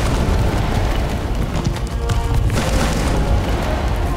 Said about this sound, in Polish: O kurde, jakaś bomba.